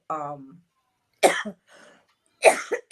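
Two sharp, close coughs follow a short voiced sound, separated by brief silences, with a faint murmur between them.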